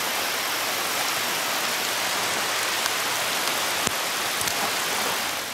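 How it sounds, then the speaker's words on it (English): Heavy rain pours down in a loud, constant hiss, with a few sharp drips and a faint low rumble underneath. "Is it raining?"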